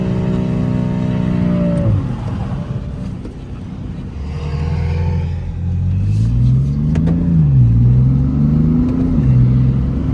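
A BMW M3 engine revs loudly and close while drifting on a track, the pitch climbing, dropping, then swelling and wavering again under throttle, with tire and wind noise around it.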